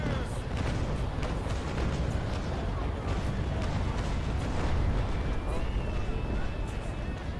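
Naval cannon fire in the sailing-warship game Naval Action: a dense run of booming shots and rumbling blasts blending into one steady barrage, with a voice faintly underneath.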